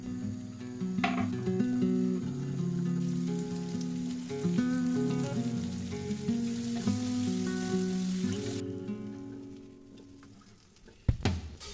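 A pear sizzles and crackles steadily as it caramelizes in hot butter in a pan, with melodic background music playing over the frying.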